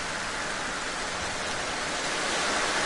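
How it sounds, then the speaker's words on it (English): A loud waterfall in the video game Grow Home, a dense, steady rushing roar heard from right underneath, constant and unbroken with no talk. "That waterfall's very loud, isn't it?"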